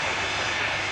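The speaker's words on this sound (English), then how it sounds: "Taxiing over to runway" A Cathay Pacific Airbus A350 jet taxis toward the runway at Manchester Airport, a steady, loud broadband engine roar filling the whole second with no talking.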